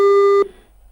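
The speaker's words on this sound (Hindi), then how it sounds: "फोन लाइन हमारा जो है संपर्क टूट चुका है" A steady busy tone plays on a disconnected phone line and then cuts off abruptly, leaving a faint hiss.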